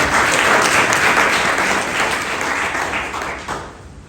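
A hall audience applauds a government minister during a speech, thick and loud at the start, then tapering gradually over about four seconds.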